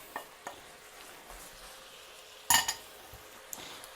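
Onion and garlic sizzle softly in hot oil in a pan for khatta meat while a utensil stirs, giving scattered scrapes and clinks, one sharper metallic clatter midway, and a quiet fry beneath.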